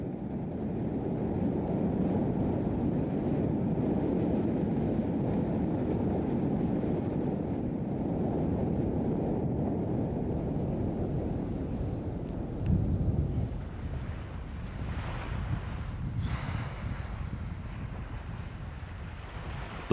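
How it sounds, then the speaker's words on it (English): A strong northwesterly Siberian wind roars continuously across the Tumen River basin in the Russian Far East, with a deep, rumbling buffeting, easing slightly toward the end, with no voices. "the harsh northwesterly Siberian winds that rage across the Tumen River basin"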